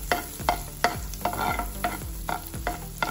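Finely chopped garlic sizzles in melted butter while a spoon stirs it in the pan, about eight rhythmic scraping strokes over a constant crackling fry, close and clear with no talking.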